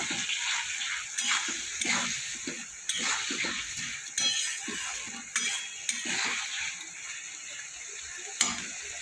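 Chopped tomatoes frying in a pan of vegetarian chana paneer masala made without onion or garlic: a steady close sizzle and hiss with occasional scraping and clinks of a stirring spoon, no voice.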